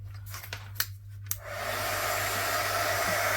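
Hair dryer blowing on fresh paint in a craft session, starting after a few faint clicks and then running as a steady, close whooshing roar that fills the rest of the clip.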